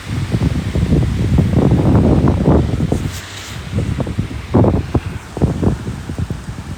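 Gusty wind blows across a warm hillside, rumbling and buffeting the microphone in uneven surges that fade briefly in the middle, loud and close with no voices.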